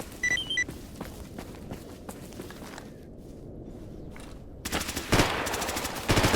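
Automatic gunfire in the survival shooter Stalker Gamma: rapid, close bursts of shots, a quieter stretch with scattered pops and footsteps, then a loud, dense volley near the end.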